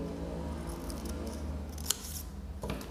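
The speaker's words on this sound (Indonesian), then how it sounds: "setelah kita lipat jadi setengah lingkaran jadi dua kita gunting lagi" Scissors snipping through folded black paper, close and steady, with a sharper cut near the end, making a paper figure's hair in a classroom craft.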